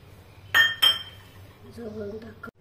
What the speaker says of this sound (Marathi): इथे मी एक वाटी घेतलेली आहे, ती आता आपल्याला या आमटीमध्ये ठेवून द्यायची